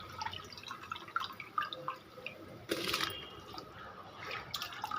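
Soaked rice poured into a pot of boiling water for a simple biryani-style dish, giving scattered drips and splashes followed by a brief louder rushing pour midway, then continued light bubbling and dripping.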